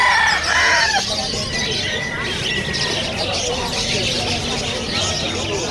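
Many roosters and chickens at a poultry market crow and cluck at once, one long crow standing out near the start over a constant dense din of birds and voices.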